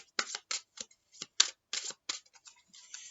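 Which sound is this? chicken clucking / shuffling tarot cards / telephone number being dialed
shuffling tarot cards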